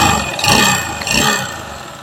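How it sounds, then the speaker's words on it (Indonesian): Honda Beat FI scooter engine running rough with the front pulley removed, a loud close-up idle with uneven, lumpy pulses and a clattery mechanical edge throughout. "Suara mesin depan tanpa puli depan punya jenengan Mas,"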